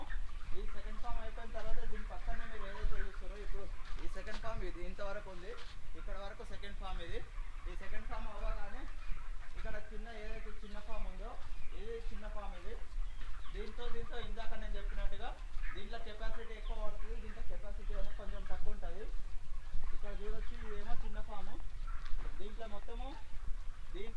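Many chickens cluck and call continuously inside a poultry farm shed, a dense overlapping chorus of repeated clucks over steady low background noise.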